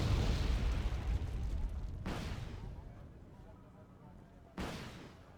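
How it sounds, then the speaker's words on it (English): Anti-air gunfire in the real-time strategy game Wargame Red Dragon, with Tunguska units shooting at jets: a dense, continuous rumble of distant fire with two sharper bursts standing out, and a voice talking over it. "It is shooting down more of the Voodoos"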